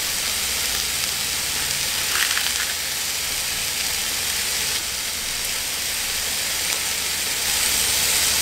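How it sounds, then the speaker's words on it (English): Sukiyaki hot pot broth heats on a grill, giving off a continuous, even hiss of steam and gentle sizzling with no voices. "So it's starting to steam a little bit."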